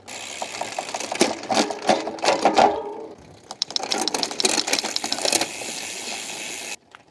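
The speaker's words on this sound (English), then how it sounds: "how fast I can shift gears up and down the cassette simply by pushing the gear shifter pedal as fast as possible" A SRAM XPLR eTap electronic rear derailleur shifts rapidly up and down the cassette on a gravel bike, giving a close run of quick mechanical whirs and clicks in two bursts with a short pause between, then a steady motor hum.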